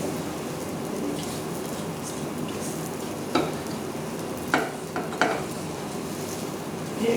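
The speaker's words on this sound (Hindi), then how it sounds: "1 मिनट में इसको और फ्राई करती हूँ" Semolina and sugar frying in a pan for puran poli filling, a steady close sizzle with several sharp spatula scrapes and taps against the pan.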